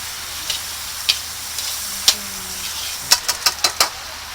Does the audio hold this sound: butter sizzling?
yes